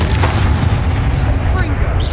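Fire and ice spell blasts (Confringo and Glacius) in the video game Hogwarts Legacy, heavy booming impacts and rumbling bursts in quick succession, with speech layered over the combat.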